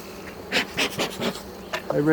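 Honey bees buzz around a hive, several close passes rising and falling in quick bursts, with a steadier drone building at the end.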